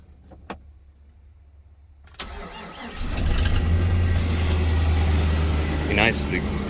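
A hot-wired Chevy squarebody truck engine cranks and catches after quiet clicks, then settles into a loud, steady idle, with a voice speaking briefly near the end.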